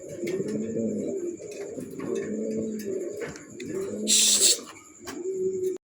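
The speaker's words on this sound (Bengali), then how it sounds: "এরকম একটা কবুতরের কোয়ালিটি দেখেন" Pigeons coo steadily on a farm, a run of low, rolling throaty calls repeating close by with a short burst of rustling or flapping midway.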